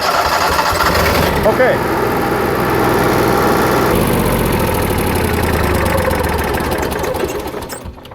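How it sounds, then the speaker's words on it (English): An Onan 5500 RV generator cranks over and fires up, settling into a loud, steady running drone close by, with a brief spoken word over the engine. "I let the generator run for about a minute."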